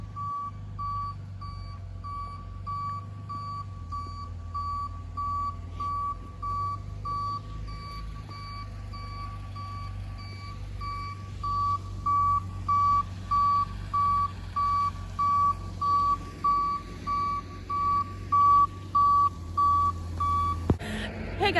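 A tow truck reversing on Silver Lake trails, its backup alarm beeping in a steady repeated rhythm over a low idling engine rumble, the beeps growing louder and more distinct in the second half.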